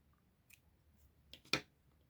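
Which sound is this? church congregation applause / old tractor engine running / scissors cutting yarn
scissors cutting yarn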